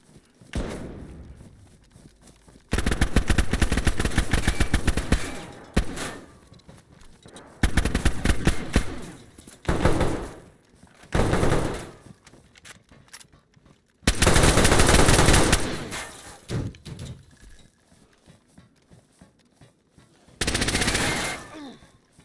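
Automatic gunfire in the video game DayZ, several long loud bursts of rapid shots separated by short pauses, with quieter footsteps and thuds between the volleys.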